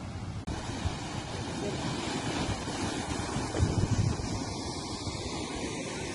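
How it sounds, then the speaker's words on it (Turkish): Rushing water of Düden Waterfall in Antalya, Turkey roars steadily as a broad, continuous wash, with gusts of wind buffeting the microphone. "Şimdi size şelalenin döküldüğü yeri yakından göstereceğim."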